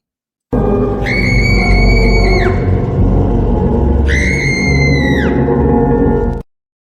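Short screaming jingle on a Spanish radio show, two loud sustained shrieks over a dense backing bed, each about two seconds long, ending abruptly.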